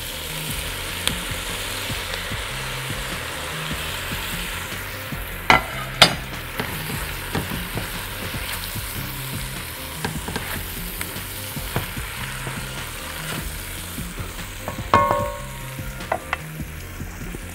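Chicken frying in a pan for a fajita chicken pasta, a steady loud sizzle broken by scraping and clinking as it is stirred, with occasional utensil knocks against the pan.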